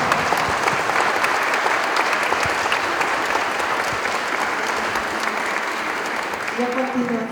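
A large audience gives Dr. Lucero a strong, warm round of applause, a steady dense wash of clapping that carries on at full volume for several seconds before tapering slightly near the end.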